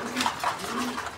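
Pigeons at a farm stocked for sale give a brief, close, soft throaty coo, two rolling phrases in just over a second.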